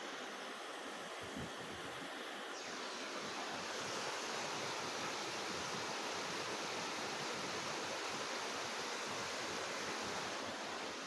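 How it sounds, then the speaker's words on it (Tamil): Thoovanam Waterfalls on the Udumalai to Munnar forest road, a steady broadband roar of rushing water filling the whole clip, loud and continuous with no voices. "அருவியுடைய சவுண்ட் உங்களுக்கு கேட்டிருக்கோன்னு நினைக்கிறேன்."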